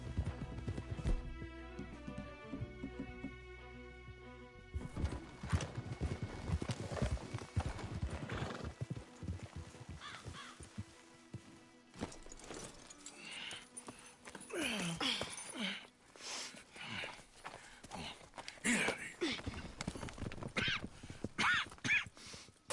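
Horses in the video game Red Dead Redemption walk with repeated clip-clop hoofbeats, mixed with whinnies and snorts; after a musical opening the hooves come close and loud, with game sounds layered on top.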